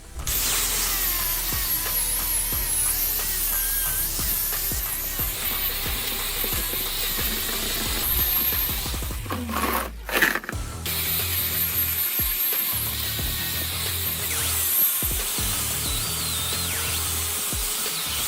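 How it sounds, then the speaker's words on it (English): A power sander grinds steadily against the metal panels of a damaged Komatsu excavator, loud and continuous, with a brief pause and shifts in pitch as it moves. "power sanding the big panels and hand sanding tight spots to expose raw metal"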